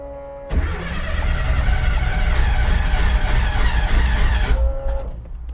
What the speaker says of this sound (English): Let's see if she starts up on her own.